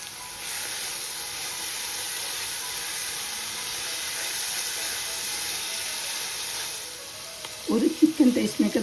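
Onions with ginger and garlic sauté in a pan, giving a steady close sizzle and hiss. A voice speaks briefly near the end.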